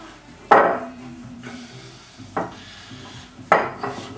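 Ground meat being mixed by hand in a bowl for meatballs, heard as three sharp knocks and squelchy clatters spaced out over a quiet, close background.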